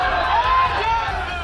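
Hundreds of protesters carrying saffron flags, marching toward a tomb and shouting slogans, heard as a loud crowd roar of many raised voices that sounds close and continuous.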